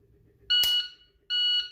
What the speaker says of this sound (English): So as fast as I hear that beep